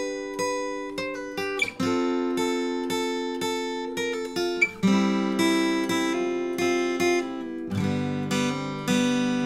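An acoustic guitar slowly plays the intro of a song without a capo, notes picked one at a time and ringing out in a gentle, unhurried pattern, close and clear with no voice over it.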